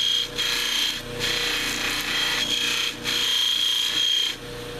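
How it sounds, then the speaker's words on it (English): Bench buffer spinning on a workshop bench to radius the spine of a knife blade, with a continuous rasping, rubbing whir that dips briefly in a few spots, close and fairly loud, with no voices. "I'm gonna fire up the buffer."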